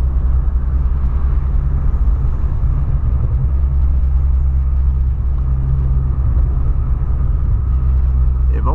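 Volkswagen Polo engine under hard acceleration from 0 to 100 km/h, a loud, steady low rumble that holds close and continuous throughout with no talking.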